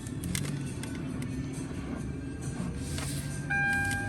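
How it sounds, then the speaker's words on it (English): Warped front brake rotor on a car scraping while driving, a continuous rough grinding rumble under steady road and engine noise, with a faint tonal whine near the end. "You can hear that front brake."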